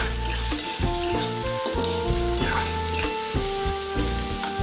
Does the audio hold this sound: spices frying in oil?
yes